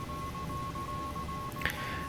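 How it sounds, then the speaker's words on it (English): A short electronic warning tone, an X-Plane 11 Boeing 737-800 traffic proximity alert, chirps once over a steady hum and a faint continuous beep. "that is a kind of like a mitigation warning, letting us know there's another aircraft kind of pretty close"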